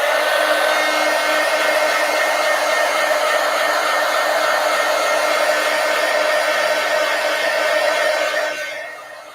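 A hair dryer blows steadily on a handmade collage, a loud, continuous, close whoosh that holds evenly before tapering off near the end.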